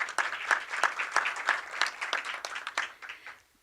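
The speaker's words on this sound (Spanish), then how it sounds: "Un aplauso, por favor." Conference audience at an Iberoamerican electoral justice event applauding a newly introduced official, with crisp, evenly paced claps from a close crowd that taper off at the end.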